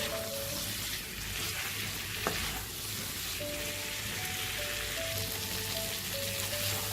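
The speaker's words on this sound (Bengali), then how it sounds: "ভালো করে এই পটলের সাথে আলুর সাথে মশলাটাকে আমি কষিয়ে নেব" Pointed gourd and potato fry with spice paste in a pan, giving a constant close hiss and sizzle under a faint background hum.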